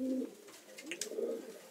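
Racing pigeons coo softly and close by, a few low, rolling coos in quick succession with nothing else around them.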